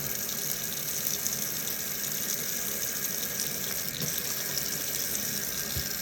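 Water runs from a tap in a steady, unbroken stream, loud and close, with a constant hiss that never changes over the whole stretch.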